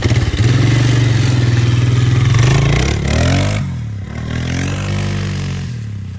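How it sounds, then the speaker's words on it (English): A Polaris Scrambler 500 automatic four-stroke ATV engine revs hard and loud up close, a droning buzz that climbs, drops, and surges again as the throttle is worked. "Little 500 Scrambler. Automatic, four-stroke. But it rips pretty good."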